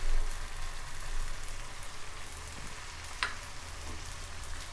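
Prawns frying on low heat in a pan with curry leaves and grated coconut, a soft, steady sizzle with light crackle and a single faint click, close and quiet throughout.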